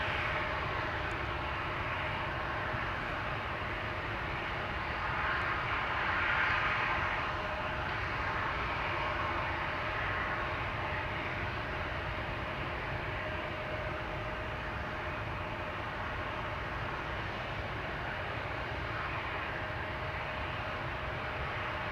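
A Nippon Cargo Boeing 747-8 freighter taxiing at Amsterdam Schiphol, a steady broad engine roar and whine held at moderate distance for the whole stretch, swelling slightly midway, with no talk.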